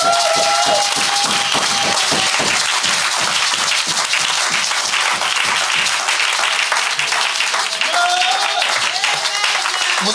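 Church congregation applauding and cheering for Jesus during a sermon: dense, continuous clapping from a large crowd fills the room for about ten seconds, with scattered voices and shouts mixed in.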